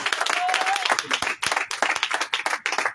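A church congregation at a prayer gathering in Pahou, Benin claps in acclamation, loud, close, rhythmic group clapping with a voice calling out over it.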